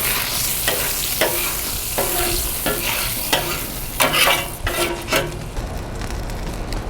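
A metal spatula scrapes a hot Blackstone griddle that is cooking smashburgers, giving repeated rhythmic rasping strokes over a steady sizzle at close range.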